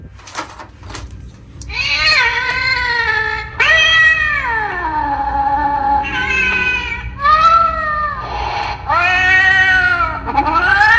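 An animated Halloween cat decoration in a store lets out a series of loud, drawn-out electronic meows and yowls, several rising and falling cries in a row, close by.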